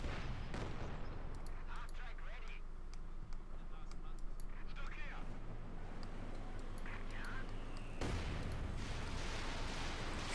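Artillery barrages and scattered gunfire from a Company of Heroes 2 battle, a dense continuous wash of blasts and crackling shots with a heavier boom near the end, heard under a commentator's voice.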